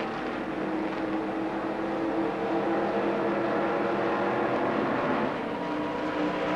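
NASCAR-trim stock cars, including an Oldsmobile, race with almost no silencing at an Australian track. A dense, continuous roar of engines holds at steady loudness throughout, with no talk over it.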